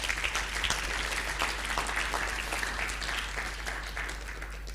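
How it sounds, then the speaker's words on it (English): Sustained applause from an audience at the closing plenary of an annual learning event, a dense steady wash of many hands clapping at even loudness throughout, with no speech over it. "Round of applause for them."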